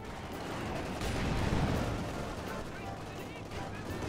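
In a Company of Heroes 2 Stalingrad battle, a Sturmovik attack aircraft strafes tanks with a dense, rolling burst of gunfire and explosions, loud and sustained, with a voice talking underneath.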